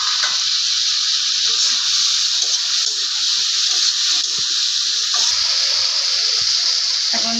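Eggplant sizzling in hot oil in a pan, a steady close frying hiss that runs unbroken throughout, with brief clatter near the end.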